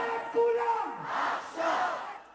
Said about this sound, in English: Students could be heard chanting pro-Palestinian messages, interrupting speakers on stage